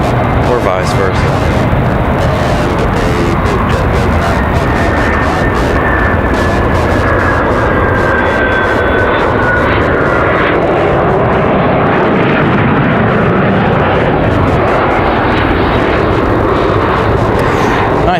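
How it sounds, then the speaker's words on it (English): Challenger business jet arriving at Raleigh-Durham International Airport, a loud sustained roar with a whining engine tone that slowly shifts as it passes, heard outdoors with people talking over it. "Nice sounding arrival for the Challenger there."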